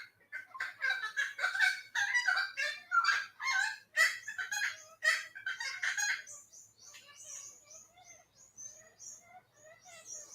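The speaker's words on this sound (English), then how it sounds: "Feel the joy coming from those birds." Several birds crow and squawk loudly in a rapid series of calls, fading into quieter, scattered cries toward the end.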